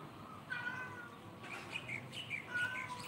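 A white cat gives several soft, high meows and chirps at a distance, faint against a steady background hum, with no talking.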